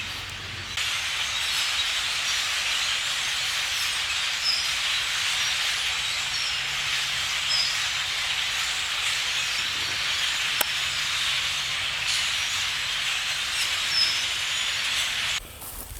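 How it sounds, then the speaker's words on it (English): Several hundred grackles call together in the woods, a dense continuous wash of chattering and squeaks at moderate distance, steady throughout with no voices. "several hundred grackles"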